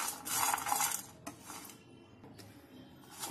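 Peanuts, coriander and cumin dry roasted in a pan over a low flame for a peanut chutney, stirred continuously with a metal spoon that scrapes and clinks against the pan, louder at first then quieter, with no talk.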